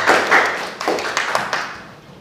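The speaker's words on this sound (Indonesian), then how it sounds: "Kasih aplaus untuk Zaki." Brief scattered clapping from a classroom audience applauding a student after a quiz answer, a few uneven claps and taps rather than full applause, fading quickly.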